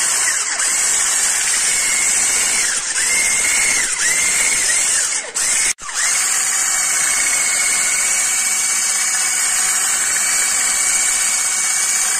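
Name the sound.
electric mixer mixing tiramisu ingredients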